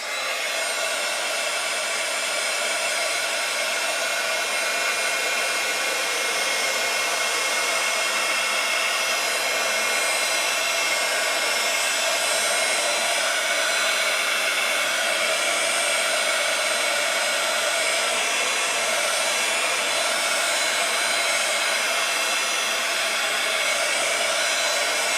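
A hair dryer blows steadily and loudly without a break, drying fresh pink and red paint on a vintage junk journal page, with a constant broadband whoosh and no speech.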